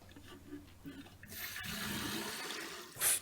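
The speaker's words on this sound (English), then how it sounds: "So I'm just going to give it a quick flush here." A dual-flush toilet cistern, its lid off, is flushed: after a quiet moment a sudden rush of water surges and drains steadily at close range, ending in a brief gurgle.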